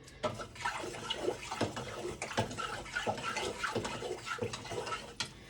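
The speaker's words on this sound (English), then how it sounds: "let me stir this up really good" Florida water with herbs stirred in a container, giving soft irregular sloshing and splashing with small knocks against the sides, close and fairly quiet with no talk.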